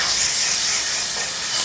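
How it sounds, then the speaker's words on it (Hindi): Garlic and ginger frying in ghee give a loud, steady hiss and sizzle, close by and unbroken, with no voices over it. "अब ये लहसुन अदरक जो है इसको घी में थोड़ा सा भूनते हैं"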